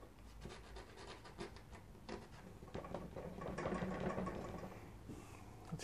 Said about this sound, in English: just scrape that in front